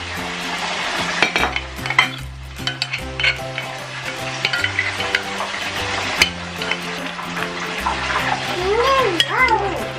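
Small shrimp fry in a pan as sauce is poured in, giving a steady crackling sizzle with stirring and liquid splashes, while background music plays and a voice hums or sings toward the end.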